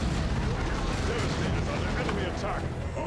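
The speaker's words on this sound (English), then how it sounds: "Commander just walking straight through the exploding dreadnoughts." Dreadnoughts explode in a Dawn of War 2 battle, giving a continuous loud roar of blasts and heavy rumbling with artillery-like booms layered over battlefield noise.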